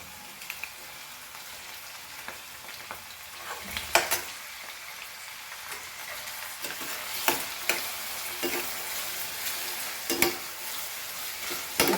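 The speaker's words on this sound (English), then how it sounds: "Fry this very nicely till our onions are soft, and our chilies also. Dry chili." Onions and dry red chilies fry in a pan for sarson ka saag, a steady soft sizzle with scattered clicks and scraping stir strokes, several sharper bursts standing out near the end, no voices.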